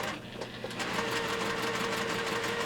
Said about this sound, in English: So I'm going to go ahead and start sewing.